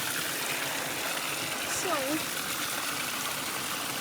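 A garden water fountain refills itself with a steady, close gush of running water, while a voice speaks briefly over it.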